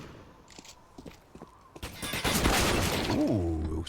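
Gunfire in CS:GO during a NAVI vs NIP match on the Nuke map, with a few sparse clicks and shots followed by a louder burst of rapid fire and clattering impacts.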